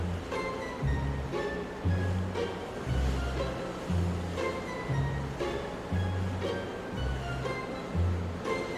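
Ocean waves wash onto a beach at night on Siargao island, near the Cloud 9 boardwalk, with surf swelling and receding in a steady rhythm of roughly one surge per second, continuous and moderately loud with no voices.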